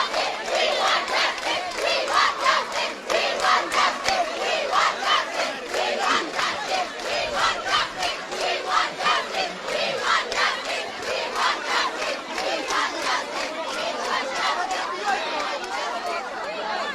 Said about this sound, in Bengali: তারা নানা ধরনের স্লোগান দিচ্ছেন